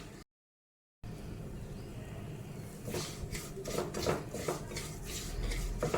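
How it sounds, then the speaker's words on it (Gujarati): Semolina roasting in ghee in a pan over low heat for sheera, with a steady close scraping and stirring of a utensil against metal that grows busier and more clattery partway through. "ઘી થઈ ગયું છે તો આમાં આપણે રવો એડ કરી દઈશું હવે આને આપણે ધીમા ધીમા તાપે શેકાવા દઈશું"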